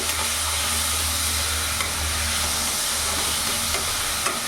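Chopped green chillies fry in a pan for a cauliflower kalia with potatoes, giving a steady, close sizzle with faint stirring scrapes and no talk.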